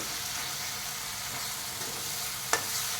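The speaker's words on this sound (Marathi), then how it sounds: "टोमॅटोचं मिश्रणसुद्धा फोडणीमध्ये आता चांगलं परतलं गेलं आहे" Tomato mixture sizzling in a hot oil tempering while being stirred: steady, dense frying hiss up close, with a single sharp metallic clink near the end.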